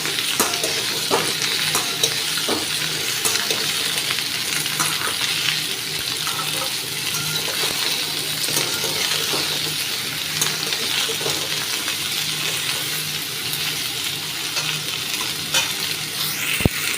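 Potato and pumpkin chunks sizzle steadily in a pan, a dense continuous fry with scattered scraping stirs and clinks throughout, fairly close and with no talking.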